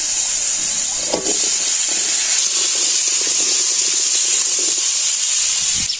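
Cumin, coriander and potatoes hitting hot oil in a pan, a loud, steady, close hiss that holds for the whole stretch, with faint clatter underneath and no talk.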